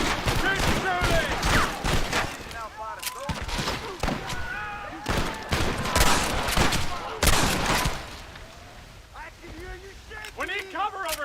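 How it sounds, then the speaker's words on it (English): Gunfire in a Red Dead Redemption shootout against the army: dense volleys of rifle and pistol shots crack in bursts, with thuds and shouting voices mixed in. "Keep shooting!"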